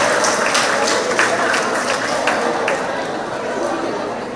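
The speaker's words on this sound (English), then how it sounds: "we need to give the vice chairman a lovely round of applause" Members at a community centre monthly meeting clap for the vice chairman, a moderately loud round of applause mixed with crowd chatter, staying steady and then tapering slightly.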